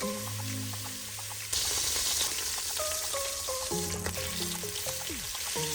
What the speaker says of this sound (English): you're going to sear the beef in batches if needed.